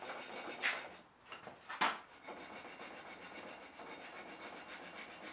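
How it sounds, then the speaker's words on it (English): Sandpaper rubs on a wooden kitchen knife handle being smoothed during a restoration, with a few sharp rasping strokes standing out from a softer, continuous scratching. "more sanding. This time I'll move from 120 to 220, eventually going all the way up to 600."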